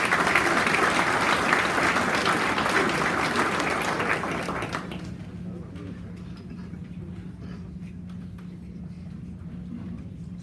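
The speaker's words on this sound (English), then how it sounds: "Let's give them one more round of applause." Loud, full audience applause at an agency awards ceremony fills the room for about five seconds, then cuts off abruptly. Quiet room noise remains with a low steady hum.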